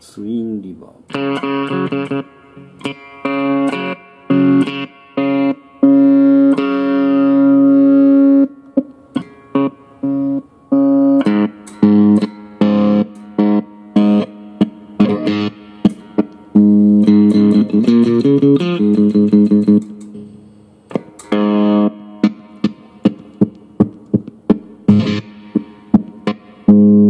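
Clean electric guitar through a DigiTech RP500 using Twin Reverb amp and Twin cabinet simulation, played as sustained chords and short picked phrases with gaps, loud and alone.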